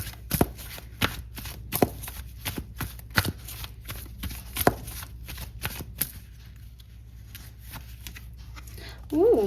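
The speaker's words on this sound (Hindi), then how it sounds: "एक बार और शफल कर लेते हैं।" Tarot cards are shuffled in a rapid series of crisp riffling slaps, loud and close, easing into softer handling, with a voice breaking in at the very end.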